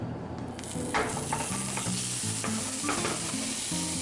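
Chopped sauce ingredients sizzle and hiss in a hot, smoking pan beside seared pork chops, with a steady frying sizzle throughout and occasional clatter from stirring and scraping, loud and close.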